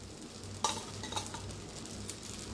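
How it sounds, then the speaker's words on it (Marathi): Dosa batter spread thin on a hot pan frying in a drizzle of oil, giving a steady quiet sizzle with a couple of brief scraping clinks, no voices. "आता वरनं तो तेल लावायचं"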